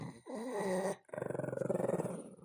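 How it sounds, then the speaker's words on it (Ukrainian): A dog growls low and steadily up close over a toy, breaks off for a moment, then resumes with a rougher, pulsing growl. "Гарчи, стій далі і гарчи."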